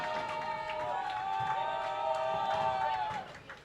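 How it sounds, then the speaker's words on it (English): Crowd of fans cheering loudly and steadily at a squash youth world championships, a dense continuous roar with shouts and whistles throughout, easing slightly near the end. "Their crowd, fans, starting to get a little loud cheering."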